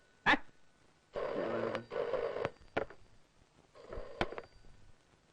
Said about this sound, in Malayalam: ആരാണ് ഈ പാതിരാക്ക് ഫോൺ ചെയ്ത് ഡിസ്റ്റർബ് ചെയ്യുന്നത്?